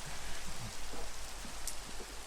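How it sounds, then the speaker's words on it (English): Steady Minecraft rain, a soft continuous hiss of falling drops with faint patters, heard alone at low volume. "Rain is still here."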